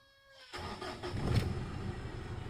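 A Mitsubishi Strada pickup engine cranks and catches after a quiet moment, then settles into a steady, close idle rumble.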